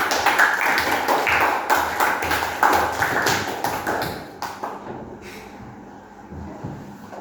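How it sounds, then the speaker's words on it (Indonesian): Students in a classroom clap their hands together in a dense, ragged burst that fills the room for several seconds, then thins out and fades toward the end. "tepuk tangan dulu semuanya"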